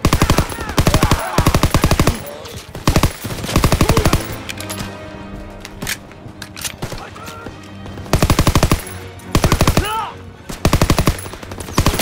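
Rapid machine gun fire in the Call of Duty: WWII video game, repeated long bursts of dense gunfire, loud and close, alternating with quieter stretches of battle noise and shouted orders.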